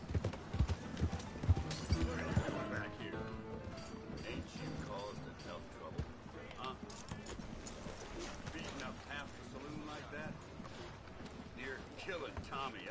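Rhythmic clip-clop of a fast racing horse's hooves galloping in the Red Dead Redemption 2 video game, steady and close throughout, with other game sounds mixed underneath.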